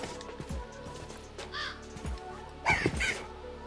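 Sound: ravens cawing in Minecraft video game

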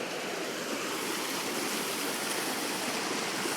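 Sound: waterfall stream flowing down the mountain

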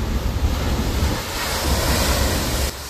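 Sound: large sea waves crashing over a breakwater

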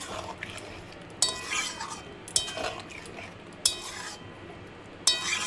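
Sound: stirring bottle gourd curry in a pot after adding sugar

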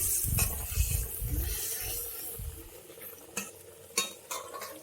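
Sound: stirring Bhola fish curry in a pan

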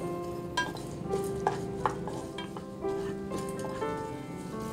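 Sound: red chillies, peppercorns, jeera and curry leaves sauteed in pan

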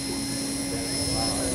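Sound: electric RC model helicopter hovering nose-in

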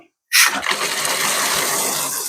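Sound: water tap turned on, water gushing

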